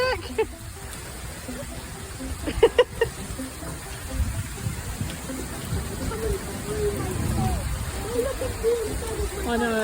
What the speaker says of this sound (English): This is extreme rain though, Jack.